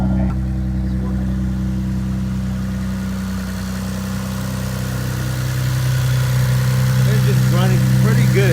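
A Mitsubishi VR4 engine running on E85 idles steadily close by, a constant low hum with a slight rise in revs toward the end; a voice is briefly heard over it.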